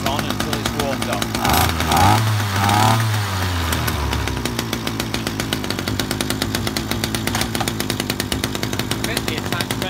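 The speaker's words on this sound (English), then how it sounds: "Once it starts, move the choke off. Let it warm." A Titan petrol strimmer engine runs without its attachment, warming up after the choke is moved off. Its loud, continuous two-stroke buzz dips briefly in pitch near the start, then holds steady and close.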